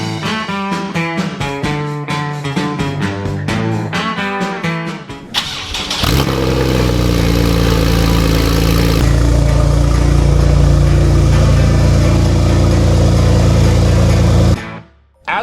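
Car engine cranking and catching, then settling into a steady loud idle with a rough low rumble, after a stretch of musical tones at the start; no talking.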